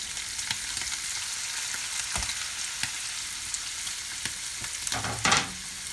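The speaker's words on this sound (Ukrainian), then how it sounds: "ми швидесенько додаємо цибульку борошна, пасируємо" Onion and flour sauté in hot pork lard for borscht, giving a steady, dense sizzle with scattered crackles and a brief stirring scrape near the end, and no talking.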